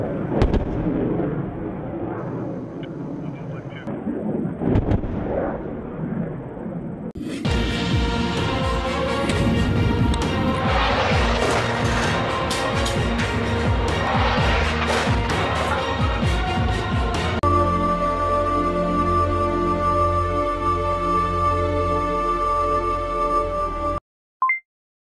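Bombing in a war film: a dense, continuous barrage of heavy explosions and artillery-like blasts, loud and sustained with booming bursts, then a steadier roaring rumble with a tonal drone before an abrupt cutoff near the end.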